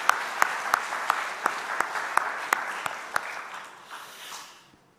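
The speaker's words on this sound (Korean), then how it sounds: "위로의 박수를 드리겠습니다" Congregation at a Korean Sunday church service gives steady applause of comfort, a dense wash of clapping with regular sharp beats that gradually fades out.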